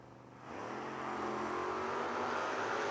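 A footbrake drag-racing Smith Racing Engines Mustang launches from the line, its engine note leaping from idle to a loud, rising roar as it accelerates away.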